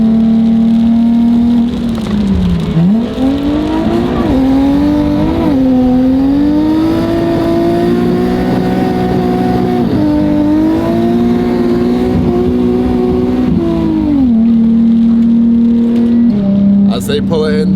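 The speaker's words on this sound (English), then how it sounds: "the clutch is slipping in third gear" A drift car with a clutch slipping in third gear revs loudly and close, its engine note rising and falling through several long surges before dropping back, with voices faintly underneath.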